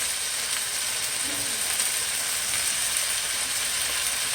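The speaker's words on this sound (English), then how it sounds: "As you can hear, those onions are still sizzling." Onions sizzle in a hot pan with a steady, bright hiss and faint crackle, continuous and close, with no talking.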